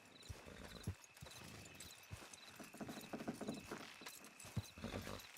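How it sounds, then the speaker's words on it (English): Horses in Red Dead Redemption 2 pull something down, with a steady run of clip-clopping hooves mixed with creaks and mechanical strain, fairly quiet and without talk. "Horses will pull it clean down."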